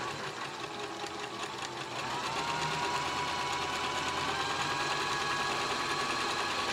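A vintage Janome New Home DX 2015 sewing machine runs a straight stitch at a steady, moderate pace, its motor hum and rapid needle clatter continuous and close, rising slightly in intensity partway through, with no talking.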